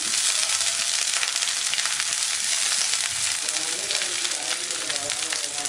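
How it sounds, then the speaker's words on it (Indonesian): Onions sautéing in a pan, a dense loud sizzle and crackle of hot oil, close and continuous with a faint scrape of stirring. "Sekarang kita mau tumis terlebih dahulu bawang bombaynya, biarkan nanti sampai wangi."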